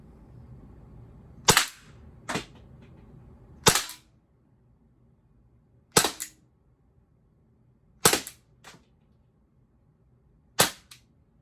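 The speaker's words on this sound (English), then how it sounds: "So let's take another couple shots. Let's finish this mag." Umarex T4E Glock 17 training pistol firing aluminum ammo, five sharp cracking shots spaced a couple of seconds apart, some followed by a quick echo or impact snap, loud and close with no talking.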